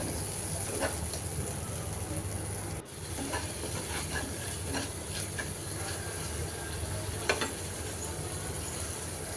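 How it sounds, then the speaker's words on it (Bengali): Onion, ginger-garlic paste, turmeric, chili and coriander powder frying in oil, with a steady soft sizzle and scattered stirring scrapes throughout. "পেঁয়াজ দিয়ে ভেজে নিয়ে এখন একটু আদা রসুনের বাটা আর অল্প অল্প করে হলুদ মরিচের গুঁড়া, ধনিয়ার গুঁড়া দিয়ে একটু মশলাটা কষিয়ে নিয়ে"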